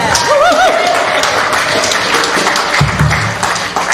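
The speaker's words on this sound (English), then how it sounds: "Can we have another round of applause" Applause from a synagogue congregation at a Rock Shabbat Friday service, a dense, steady wash of clapping with a few rising whoops or whistles near the start, continuing throughout.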